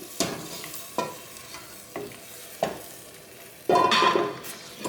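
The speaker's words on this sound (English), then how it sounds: "now that my meats are cooked, I'm going to add them to the celery" Cooked meat being stirred into a celery and herb stew in a pot, with a few separate stirring scrapes and soft sizzling, the last one louder and longer.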